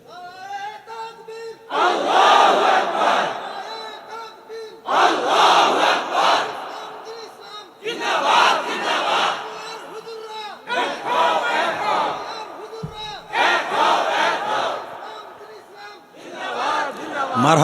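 A large crowd at an Islamic religious gathering shouts the Takbir chant in loud, sustained bursts, about five or six rounds of massed voices separated by short pauses, with a leader's voice cueing between them.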